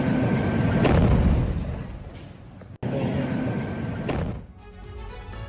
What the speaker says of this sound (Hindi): धमाके के साथ इजरायली बुलडोजर उड़ गया।